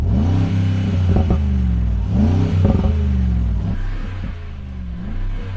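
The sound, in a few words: Rolls-Royce Cullinan engine revving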